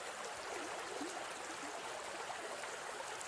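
A flowing river over colorful rocks and stones outdoors, a quiet, steady wash of rushing water with faint gurgling, continuous and even throughout.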